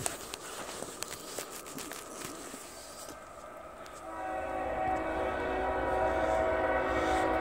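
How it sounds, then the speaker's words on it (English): A train heard far off in the rain, its horn sounding in long sustained blasts that grow louder and steadier as it draws nearer, with steady rain hiss underneath throughout. "With it raining, I could hear this train way, way away."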